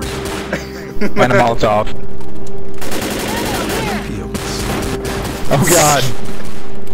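Left 4 Dead video game gunfire, loud bursts of rapid shots and heavy booms in several clusters, with voices talking and shouting over the shooting.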